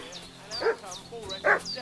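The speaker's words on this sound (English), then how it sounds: "What's that dog making such a fuss about?" A dog barks excitedly in the medieval role-playing game Kingdom Come: Deliverance II, two yelping barks over a steady ambient game background with a speaking voice in the mix.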